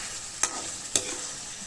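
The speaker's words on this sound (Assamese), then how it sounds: "ভালকৈ আপুনি লৰাই ভাজি থাকিব" Masala frying in oil for a clown knife fish curry is stirred in a pan, with two sharp scraping strokes over a steady, soft sizzle.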